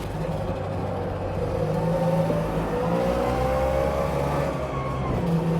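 A car engine with the choke on runs steadily and loud, revving in rising and falling sweeps with a low droning idle underneath, close by and without talk.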